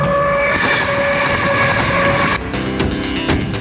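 The Lhasa Express passenger train travels at speed through industrial eastern China, with a loud, steady rolling rumble and a sustained horn tone, then it shifts to lighter rattling clatter.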